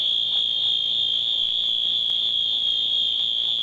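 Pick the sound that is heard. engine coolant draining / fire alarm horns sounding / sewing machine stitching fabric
fire alarm horns sounding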